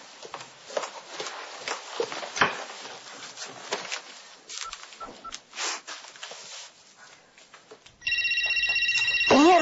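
A mobile phone rings loudly in an indoor scene from a Spanish television drama, its electronic ringtone cutting in sharply near the end after a stretch of clattering, knocking movement and footsteps.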